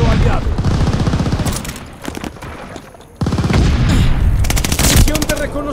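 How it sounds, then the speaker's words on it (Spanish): Allied mortar bombardment and gunfire in the video game Call of Duty: Vanguard, with loud sustained machine-gun bursts and booms filling the clip, briefly dropping before resuming, with game voice shouts mixed in. "¡Tiene bombardeo con mortero aliado!"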